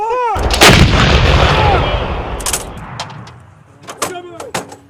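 Loud, close blasts from an M777 155mm howitzer, a heavy boom near the start followed by further sharp reports and echoing cracks toward the end, with raised voices partly mixed in.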